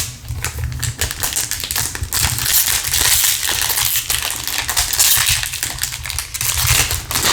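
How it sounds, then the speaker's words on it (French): Packets of Panini Score Ligue 1 2023-2024 trading cards are torn open and the cards handled, a continuous close crinkling and rustling of foil and card with sharp tearing bursts, no talk. "le bruit des ouvertures, des cartes que je triture"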